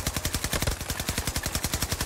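Rapid automatic gunfire in Battlefield 2042 Hazard Zone: a fast, evenly spaced string of sharp shots rattling continuously, loud and close, with no talk.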